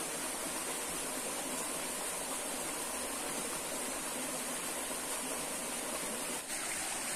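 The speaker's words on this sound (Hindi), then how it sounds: "छोटा सा झरना है ये" A small waterfall in a village forest gives off a steady, broad rush of falling water. The sound holds even and constant from start to finish, with no talk over it.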